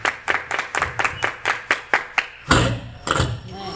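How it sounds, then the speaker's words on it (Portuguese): A church congregation at a Brazilian sermon claps in a quick, regular rhythm of about a dozen sharp claps, then breaks into a brief louder burst of applause and cheering. "Dá uma soma de palmas para Jesus Cristo."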